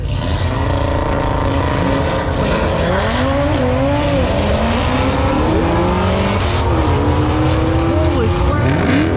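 Loud, continuous engine roar from race cars at a Lucas Oil drag strip open track day, including an 8-second Civic, a GTR and a Mustang, with rising and falling revs as they pass, and voices faintly underneath.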